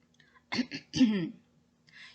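A deliberate, fake throat clearing, a timid cough used to get attention: two or three short, close, rasping bursts with a faint breath after.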